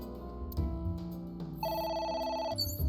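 A phone rings in the video game AI: The Somnium Files, a bright electronic ring pattern that starts partway through and repeats over game background music, with no voices.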